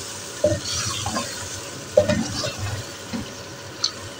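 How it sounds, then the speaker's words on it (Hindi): A spoon stirs fried tinda (apple gourd) into chana dal in a pan, making wet scraping and sloshing strokes at irregular intervals over a soft background sizzle, close by. "मेरे पास है जो टिंडे मैंने फ्राई किए वो डालती हूँ, इसकी मिक्सिंग करती हूँ"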